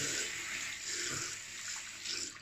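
Hot tap water runs steadily to warm a straight razor blade, a continuous close hiss of flowing water with no talk over it.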